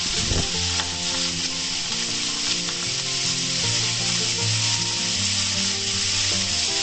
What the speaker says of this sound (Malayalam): അതിനുശേഷം നമ്മൾ അരിഞ്ഞു വെച്ചിരിക്കുന്ന സവാളയും അതുപോലെ തന്നെ പച്ചമുളകും വെളുത്തുള്ളിയും എല്ലാം കൂടി നമുക്ക് ഇട്ടൊന്ന്